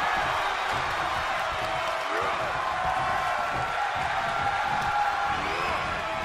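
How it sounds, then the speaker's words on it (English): A wrestling arena crowd in the WWE 2K22 video game roars continuously, a dense steady wall of cheering and whooping, while a commentator keeps talking over it. "The sound of this crowd is deafening, and he's asking for more."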